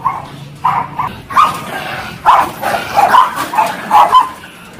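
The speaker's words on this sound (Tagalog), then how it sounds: "Ayan naman yung mga aso yung galit na galit." Several dogs barking repeatedly and aggressively at close range, rapid overlapping barks with a few yips.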